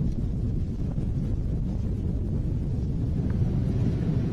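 A SpaceX Falcon 9 rocket's engines roar during launch as a dense, continuous low rumble, distant and steady, with a wind-like buffeting and no voices over it.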